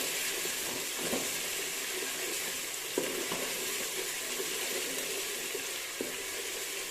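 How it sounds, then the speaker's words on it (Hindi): Spices fry with garlic and ginger in a pan, giving a continuous close sizzle and hiss with a few faint spoon scrapes and stirring knocks, no talk. "इसको थोड़ा सा इस तरह से फ्राई करने के बाद ताकि जो लहसुन और अदरक की खुशबू है ना वो अच्छे से आ जाए।"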